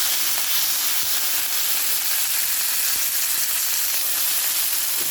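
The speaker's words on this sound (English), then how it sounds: "here I am in the wee hours of the morning, frying up a steak." A sirloin steak, scored, sizzles loudly and steadily in a hot pan, a continuous bright crackle with occasional faint scrapes.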